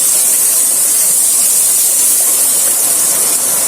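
Ground spices such as cumin and coriander fry with a little added water in a pan for restaurant-style broiler chicken bhuna, producing a loud, continuous, close-up sizzling hiss that stays even throughout.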